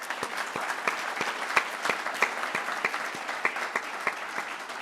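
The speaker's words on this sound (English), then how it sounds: "So a round of applause for them." A room at a fire department promotion and achievement ceremony gives a round of applause, sustained and fairly soft, with sharp individual claps standing out above the steady patter.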